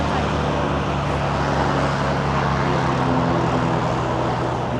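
Steady drone of a Velocity XL5 homebuilt airplane's engine and propeller, loud and continuous with a low hum throughout, heard up close.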